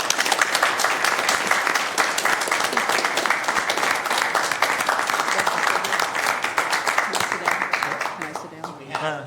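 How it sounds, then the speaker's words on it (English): A meeting-room audience at a cable commission session gives a sustained round of dense applause, many hands clapping steadily for about nine seconds before tapering off at the end. "big round of applause"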